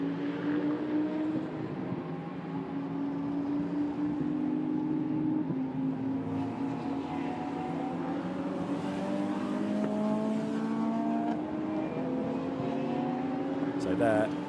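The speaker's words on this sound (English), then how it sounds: "Max Weering accelerates his way up towards the end of the lap" Lamborghini Super Trofeo race car at the Nürburgring accelerating up toward the end of a lap, its engine note climbing steadily and loud throughout, with a commentator talking over it.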